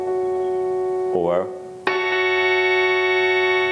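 A touch-sensitive synthesizer sounds one sustained note, then a short warbling bend, then the same note struck again with a brighter, harder tone that holds steadily; a single brief spoken word is heard.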